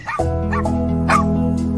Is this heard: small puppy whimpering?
yes